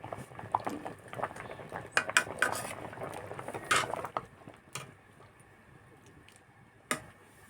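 Metal lid lifted off a pot of boiling potatoes while cooking a lentil and taro leaf dish, giving a cluster of close clanks and scrapes early on, then sparse faint clicks and one last sharp clink near the end.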